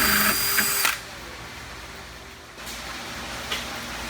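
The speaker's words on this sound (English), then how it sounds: "We're going to be drilling a hole for the bulkhead fitting right here for the drain." A drill driving a 1.5 inch hole saw to cut a drain hole for a bulkhead fitting in a greenhouse, whining loudly for about a second, then stopping, followed by quieter handling noises and a brief restart.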